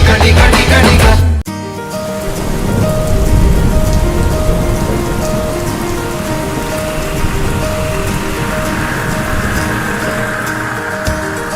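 Heavy southwest monsoon rain pours down as the first showers of the season, a loud, dense, continuous hiss of drops on surfaces that starts abruptly and holds steady throughout.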